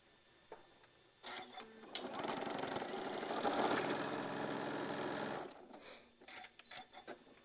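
A sewing machine stitches quilt pieces for a maple leaf table runner in one continuous close run of about three and a half seconds, bracketed by soft handling taps and faint noises before and after.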